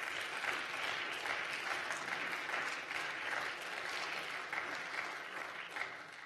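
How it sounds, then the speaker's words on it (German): Sustained applause fills a state parliament plenary chamber, a dense, steady wash of clapping from many hands that holds at an even level throughout with no talk over it. "Applaus"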